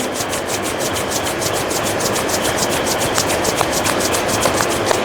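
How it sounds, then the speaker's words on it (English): Palms rub together in a steady, continuous rasping swish, loud and close, with no speech. "Join your both palms. Rub your palms."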